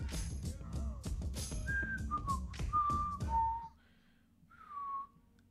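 Someone whistles a short, wavering tune of several held notes, preceded by a burst of background game sounds and followed by a final faint whistled note.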